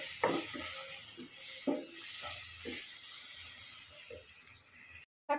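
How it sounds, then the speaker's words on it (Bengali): Chicken curry spices with turmeric and salt sautéed in a pan, a faint low sizzle under irregular scraping and clicking strokes of a spatula, then a brief dropout at the end. "দিয়ে একটু কষিয়ে নিচ্ছি 1 মিনিট মতো"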